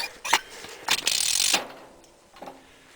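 Ratcheting jack on a Scout being worked, giving a few close, sharp ratchet clicks and one longer grinding ratchet sweep, then quieter faint clicks.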